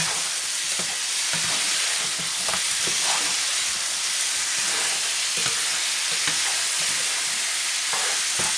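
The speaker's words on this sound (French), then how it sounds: "On mélange." Beef and carrots stirred in a pot for a wine-free braise, giving a steady broadband sizzle with scattered scraping and clinking strokes of the spoon throughout, close and even, with no voices.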